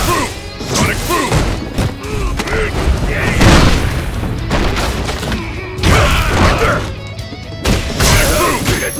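Street Fighter V fight noise for a Sonic Boom special move: repeated loud booms, thuds and smacks come in quick succession, close and forceful, mixed with game announcer and character voice shouts.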